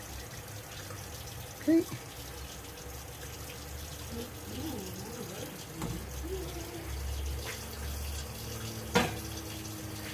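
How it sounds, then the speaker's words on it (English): Cold tap water runs steadily into a Mr. Beer homebrew fermenter keg, a continuous close splashing fill with one brief spoken word and a couple of short knocks. "I still have the water running. And I'm going to fill it up the rest of the way with the cold water."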